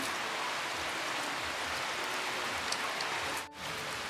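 Light rain falling in a rural province, a soft, even hiss of drops that continues without a break apart from a momentary dip near the end.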